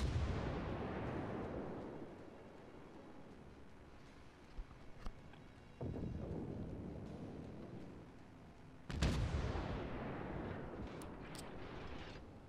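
Heavy battleship gun salvos and shell impacts in World of Warships naval combat, booming blasts at the start and around the middle and end, each trailing off in long rumbling decay, with no talk.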